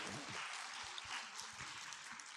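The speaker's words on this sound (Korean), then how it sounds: "네, 박수 좀 주세요." Faint audience applause at a self-esteem lecture for early childhood teachers, a soft, steady wash of many hands clapping with no voices over it.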